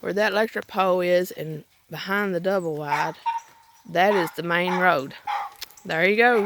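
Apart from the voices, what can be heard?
No everyday noises stand out.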